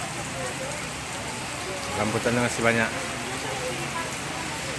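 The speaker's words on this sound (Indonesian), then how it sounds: "Hujan." Steady rain falls outdoors at a fruit stall selling rambutan in Aceh, a constant even wash of drops close around, with a person speaking briefly over it midway.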